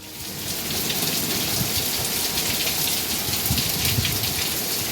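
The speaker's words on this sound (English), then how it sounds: "if it comes from the north, it turns into a hailstorm. Got hail all the way over here." Hail and rain pelting down outside during a storm, a dense, steady hiss of impacts with scattered harder hits and a faint distant rumble, continuous and fairly loud throughout.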